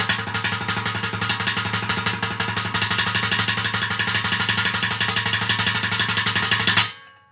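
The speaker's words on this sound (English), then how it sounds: "Let's find a sound that's going to kind of be like our crash cymbal" Rapid repeated hits on a bucket drum set item used as a crash cymbal make a dense, noisy, washy roar that holds steady for about seven seconds, then cuts off.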